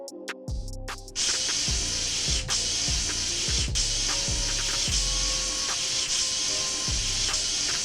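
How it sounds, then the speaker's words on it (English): Blue paint sprayed along the edges of wood boards, a steady loud hiss running throughout with repeated short bursts and clacks of the spray gun as passes restart, no voices. "Spraying that blue paint along the edges doesn't just make the boards pop"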